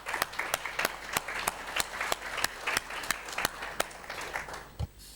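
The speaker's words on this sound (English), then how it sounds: "just one final round of applause for the panellists" Audience clapping for a panel at a parliamentary forum in a conference room, sustained applause with sharp individual claps standing out, moderately loud and steady, no talk over it.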